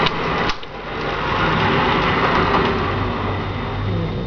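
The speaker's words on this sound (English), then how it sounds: "we're going to put this train back in the parking spot." An HO scale model switcher locomotive rolls along the track of a home layout. It gives a steady, close mechanical whir and rumble with a faint clicking rhythm, and a brief clunk comes near the start.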